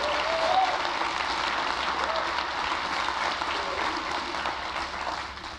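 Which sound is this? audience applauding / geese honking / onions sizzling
audience applauding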